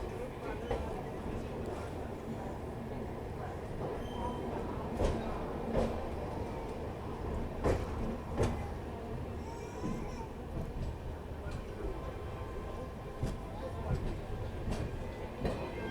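Crowded passenger train stopped near Prayagraj Junction after an emergency chain pull, its carriage rumbling and clunking steadily while voices chatter throughout.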